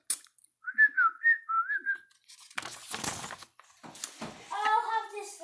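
Person whistling a tune, a short wavering melody of a few notes, followed by rustling and handling noise and a brief higher vocal sound.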